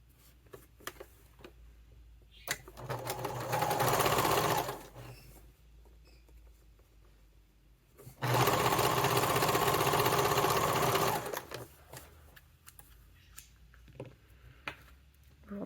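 A sewing machine top stitching tan thread into vinyl runs in two sustained bursts, each a few seconds long, with quiet handling clicks and rustles between them.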